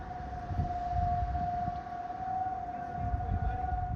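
A Nebraska tornado warning siren wails with a single steady tone that holds for several seconds. Low rumbling background noise runs beneath it.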